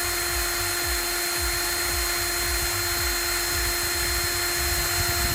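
A power drill run as a makeshift blender to mix a cocktail outdoors in the bush by a river, whirring in a loud, constant high drone with a faint rhythmic churning underneath and no talk.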